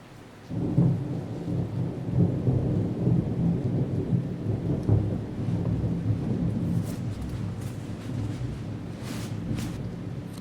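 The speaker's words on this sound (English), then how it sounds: "The rain is continuing." Steady rainfall pours down continuously, with a deep low rumble underneath and occasional sharper patters, close and fairly loud throughout.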